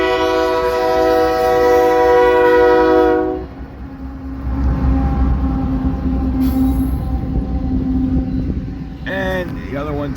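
An eastbound freight train bound for Council Bluffs sounds a loud, sustained horn blast, then rumbles past with heavy rolling noise and a squeal, and a voice speaks briefly near the end.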